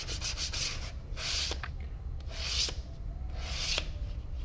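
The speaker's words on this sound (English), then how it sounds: "I'll take some sandpaper here and I'm going to sand that edge a little bit too because there's glue on it" 320 grit sandpaper is rubbed along a glued leather edge in three or four short, dry scratching bursts, close and fairly quiet, with soft pauses between the strokes.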